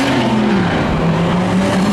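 Spectator drag race cars launch side by side at Seekonk Speedway, a loud sustained engine roar with rising, droning tones filling the track, continuous and close with no talk.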